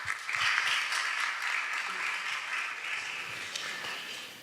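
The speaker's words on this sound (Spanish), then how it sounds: "Un fuerte aplauso para él, por favor." An audience at a university talk on heritage and landscape gives a strong round of applause that swells quickly and then gradually fades, with a few voices faintly beneath it.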